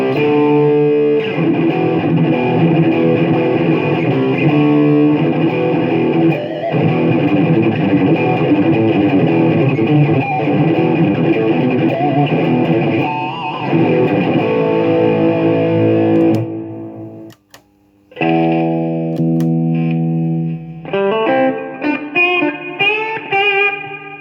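A heavily distorted electric guitar, boosted through a purple distortion pedal, plays thick, sustained chords, cuts out briefly, then returns with choppier, punchy riffs.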